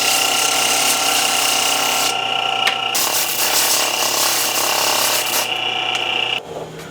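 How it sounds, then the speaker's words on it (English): A grinding machine runs steadily, grinding the nodes off a piece before sanding. It makes a continuous rasping, whirring drone with a persistent tonal hum, then cuts out abruptly near the end. "This grinding machine"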